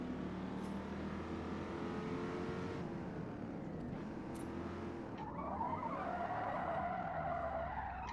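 Skidding tires of a 1967 Chevrolet Corvette in the Forza Motorsport racing game, with the e-brake pulled. A steady engine drone runs throughout, and a loud tire squeal rises over it in the second half.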